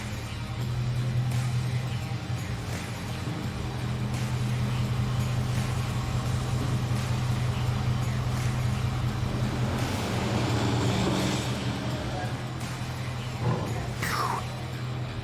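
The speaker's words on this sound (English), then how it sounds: "I'm currently shifting the car every about 10 seconds or so, kind of run some of that fluid through the transmission." A Super Bee car idling on a lift while being shifted through its gears: a steady low engine hum and drone, with a louder swell near the end and a few clunks.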